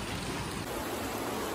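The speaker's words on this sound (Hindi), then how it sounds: "देखो कितनी तेज बारिश आ गई है" Heavy rain pours down outdoors as a dense, constant hiss filling the scene, steady and close with no pauses.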